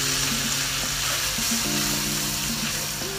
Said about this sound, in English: You can see it's just foaming up here, the butter.